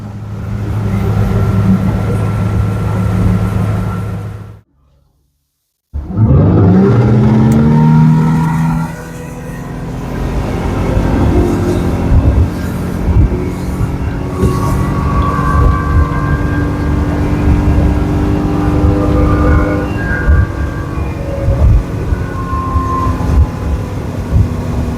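A 2025 Regal LX4 boat's engine holding a steady cruise at 3,300 rpm, a loud continuous drone with wind and water rush, cut by a brief silent gap before surging back.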